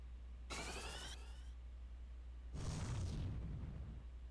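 A Fire spell goes off in the game Final Fantasy IV as two separate crackling, fiery bursts about two seconds apart, the second lower and more rumbling, with no voice.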